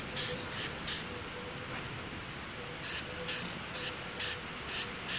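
A spray can lays a first light coat of paint on a Jeep XJ headlight trim bezel in short, close hissing bursts: three quick sprays, a pause, then a run of six more evenly spaced bursts.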